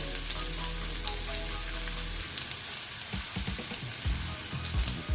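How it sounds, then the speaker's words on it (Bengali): Potatoes fry in oil with a continuous sizzle, joined midway by irregular clattering stirring knocks close by. "আলুগুলোকে আমি ভালো মতন ভেজে নেব"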